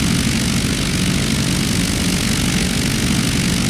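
A Douglas SBD Dauntless propeller dive bomber in a flight simulator, just airborne with gear and flaps up: a steady, loud, droning engine and propeller roar, continuous and unchanging, with no voices.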